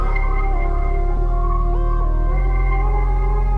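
A song plays with washed-out, sparkly, higher-pitched synth keys ringing above a steady low bass and sustained chords. Shifting tones keep going for several seconds with no talking.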